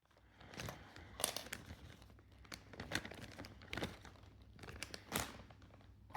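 A plastic package of Garmin bike mounts is unwrapped close up, giving faint, irregular bursts of crinkling and rustling with short pauses between them.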